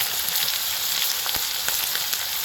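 Chopped ginger and garlic sizzle steadily in hot oil in a pan for a liver khasta biryani, a loud, continuous crackling fry with no voices.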